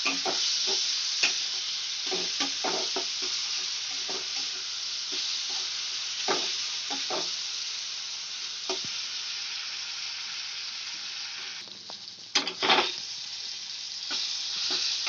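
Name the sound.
tomatoes with turmeric cooking in a pan on a gas flame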